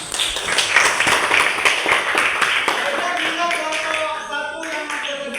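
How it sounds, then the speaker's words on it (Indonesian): Classroom applause in a teacher-training lesson, a burst of many hands clapping together at close range, tapering off toward the end with a few voices emerging. "Tepuk tangan."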